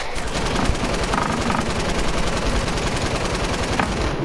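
Sustained rapid-fire bursts from a light machine gun in a video game, a dense unbroken rattle of shots, loud and close from start to finish.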